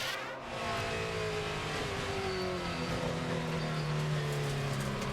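Tony Stewart's number 20 NASCAR Sprint Cup car at Watkins Glen in 2008: a loud, buzzing V8 engine roars continuously, pitch rising and falling as it works through gears and corners, with no voices.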